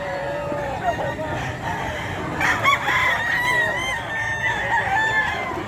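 Chickens and roosters at a busy pet market in Bocaue, with a rooster crowing in a long call midway through, amid steady clucking and background crowd chatter.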